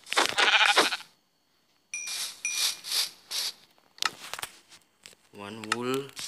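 Sheep bleat in a video game, several short bleats in quick bursts, with one longer wavering bleat near the end, sounding close and clear.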